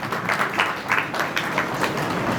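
Audience clapping at a Dodiya family community get-together in Chotila, a dense, steady patter of many hands filling the room at moderate loudness with no talk over it.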